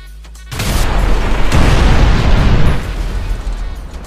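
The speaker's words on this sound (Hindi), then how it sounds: "उस वैन में बम था" A bomb hidden in a van detonates in one loud, deep boom that starts suddenly and rumbles on for a few seconds before slowly dying away.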